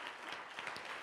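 Audience applause at a leadership event on Nelson Mandela, a brief steady wash of many hands clapping at moderate distance.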